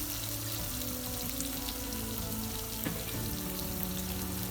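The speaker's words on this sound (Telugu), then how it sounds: "వేసుకొని మంచిగా దోర వేగేదా వేగేదాకా కలుపుకుందాం" Onions fry in a pan for mint rice, a dense, constant crackling sizzle close up with scattered louder pops and no one speaking.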